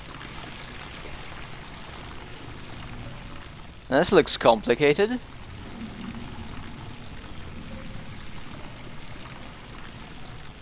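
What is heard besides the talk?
water pouring from a pipe in the video game INFRA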